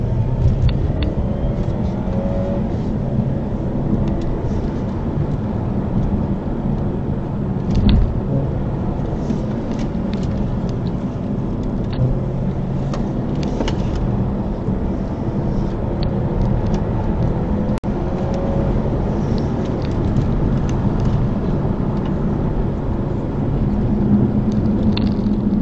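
A racing car at over 150 brakes hard into a corner and downshifts from fourth to second, heard as a continuous loud engine rumble from close inside the car with slight surges and no talk.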